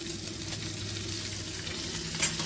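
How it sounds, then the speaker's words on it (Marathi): Tomato and garlic fry in hot oil for a dal tadka, giving a steady, close sizzle and crackle that runs unbroken from start to finish with no voices. "ही दाल तडका आहे"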